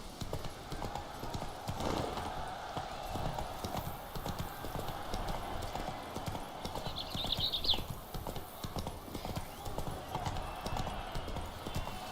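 Horse hooves clip-clop at a steady galloping rhythm in The Witcher 3 video game. The sound runs continuously but stays quiet, set against a soft background of in-game ambience.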